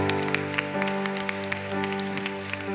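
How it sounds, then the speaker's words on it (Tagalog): Church congregation clapping during a praise service, scattered sharp claps over sustained organ or keyboard chords, moderately distant and not very loud. "Malakas na palakpak nga po para sa Panginoon."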